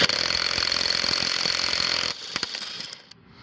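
A Kobalt 24V compact impact wrench, 1/4-inch or 3/8-inch square drive, whirs loud and steady up close for about two seconds, then cuts to a lower, uneven rattle before trailing off.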